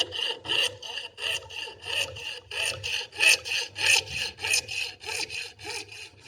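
A hand saw rasps through wood clamped in a vise, cutting relief lines in steady back-and-forth strokes, about a dozen close, loud rhythmic pulls heard alone.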